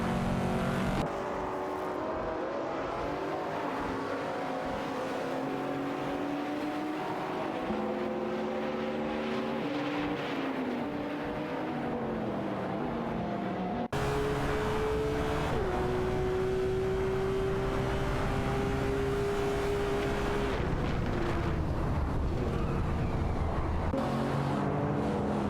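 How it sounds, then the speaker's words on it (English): Race cars in an AI racing video game, Radical RXC sports prototypes among them, drone past in a steady layered engine whine, pitch sliding up and down through gear changes, loud and continuous with no pause for the full length. "Electric Mary and Tin Racing are fiercely contesting the 7th position, both in Radical RXC cars"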